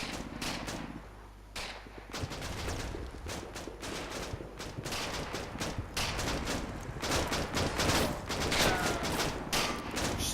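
Sustained gunfire exchange in the World War II strategy game Combat Mission: Battle for Normandy, with dense rifle and machine-gun bursts and rapid overlapping cracks that go on nearly nonstop, at a moderate level, with no talking.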